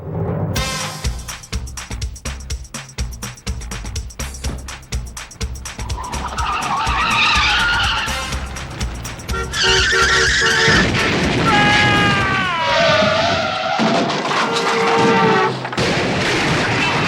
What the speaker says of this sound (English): I smell a car chase coming on!